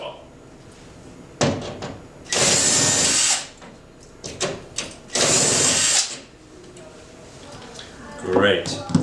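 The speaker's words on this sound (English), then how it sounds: "So I'll go ahead and take my 1/4" magnetic driver. Go ahead and remove our mollies that have been expanded" Quarter-inch magnetic power driver backing expanded molly screws out of drywall: two loud whirring bursts of a couple of seconds each, with shorter clicks and handling knocks between them.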